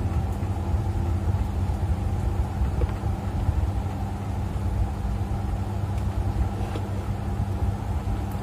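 Steady, continuous motor drone of an evaporator fan running in a refrigeration unit controlled by a Dixell controller, an even low hum with no breaks throughout.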